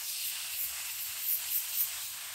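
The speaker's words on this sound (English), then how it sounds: "you're just gonna spray your Tough Stuff right on your carpet." Tough Stuff multi-purpose foam cleaner sprays straight onto the carpet of an old abandoned Rolls-Royce under restoration, a steady close hiss with a few brief surges and no talking.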